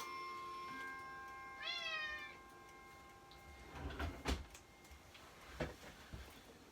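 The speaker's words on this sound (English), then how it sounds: "why the tuxedo cat is so very, very chatty these days" A tuxedo cat meows once in a rising, drawn-out call, then gives a few short, sharper chirps nearby, set against a steady electronic hum and faint handling noises.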